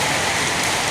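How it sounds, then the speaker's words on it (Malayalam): Heavy rain drumming on a roof sheet, a loud, dense and continuous patter that fills the whole moment, with no voices. "നല്ല മഴയുണ്ട് അല്ലേ."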